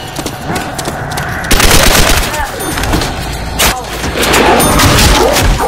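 Rapid gunfire from an M1 Garand rifle in World at War zombies mode, with loud, dense bursts of shots and booms layered over game effects and excited voices talking throughout.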